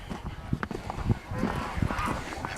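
A goose honks several times in short irregular calls at close range among other barnyard birds, with a person talking nearby.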